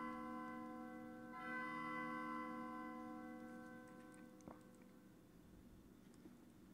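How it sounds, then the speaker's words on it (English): Bells ring out in a castle hallway in the video game Undertale, with long, sustained tones that layer and hum, a steady resonant chime with a sharp knock partway through, no talking. "Why are bells ringing?"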